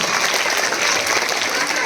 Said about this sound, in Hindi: सभी बच्चे आप लोग तालियों से सभी का हौसला अफजाई करते रहे